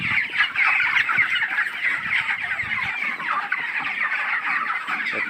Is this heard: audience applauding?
no